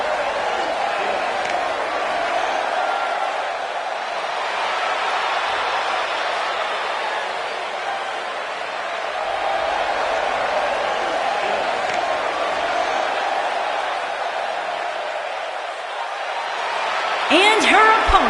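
A sold-out arena crowd at a women's wrestling show keeps up a steady, distant roar of murmuring and cheering, with a sharper burst of noise near the end.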